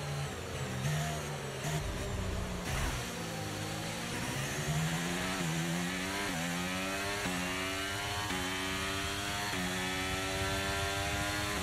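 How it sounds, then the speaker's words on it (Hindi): Formula 1 car engine in the F1 2023 racing game, a loud continuous whine that climbs in pitch through repeated upshifts, with no talking over it. "गाड़ी की आवाज बहुत कम आ रही है क्या?"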